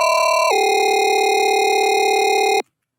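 A synthesized dubstep YOI, ring-mod style, starts on one sustained pitch, drops lower after half a second, and holds there as a loud, steady, overtone-rich drone before stopping sharply.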